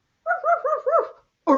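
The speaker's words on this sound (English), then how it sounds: "Doggies are more like woof, woof." Several dog barks in a quick rhythmic run of about four, close and fairly loud, then a short pause and one more bark, with no talk over them.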